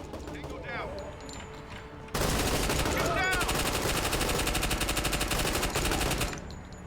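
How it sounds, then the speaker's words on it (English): Sustained machine gun fire from a squad tactics video game, rapid bursts of gunfire running loud and continuous for several seconds after a quieter stretch with faint background sounds. "The machine gun was suppressing, and that only took 10 seconds."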